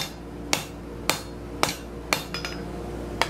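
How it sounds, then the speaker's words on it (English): A hammer strikes a metal bar on a scroll bending jig in evenly spaced, ringing blows, about half a second apart, with a couple of lighter taps between, close and clear. "Hammer straight down on top."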